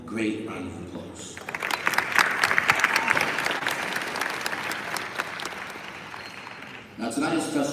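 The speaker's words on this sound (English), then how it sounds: "Now let's give them both a great round of applause." Audience at a formal NAACP national awards gala breaks into loud, sustained applause lasting several seconds, swelling and then tapering as voices return around it.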